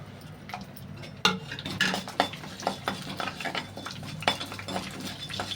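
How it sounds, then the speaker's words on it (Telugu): Urad dal, cumin, mustard seeds and dry red chillies fry in hot oil for a tempering, with a soft steady sizzle under repeated metallic clinks and scrapes of a spoon stirring the pan. "ఇప్పుడు ఇందులో పోపు దినుసులు, మినపప్పు, జీలకర్ర, ఆవాలు, ఇలా ఎండుమిర్చి వేసుకొని వేయించేసుకుందామండి"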